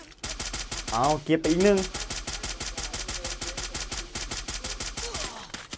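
Rapid automatic gunfire in the shooting video game War Clans, an evenly spaced stream of sharp shots running almost throughout, with a brief pause and someone talking over it.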